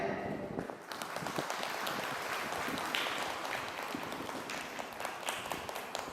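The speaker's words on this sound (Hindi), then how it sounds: "आज इसको हम जोरदार ताली बजा के उनका स्वागत करते हैं" An indoor crowd at a Karam celebration in a cathedral in Jalpaiguri claps to welcome the priest, a dense, steady patter of hands of moderate loudness lasting several seconds.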